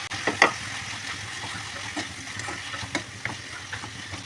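Goat meat and spices fry in a pan with a steady sizzle, broken by a few scraping stirs and soft clicks.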